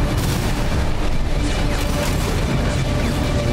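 Enemy gunfire in the mech combat game Armored Core VI: dense, continuous booming shots and crashing impacts fill the whole stretch at loud level, with a voice faintly under the barrage.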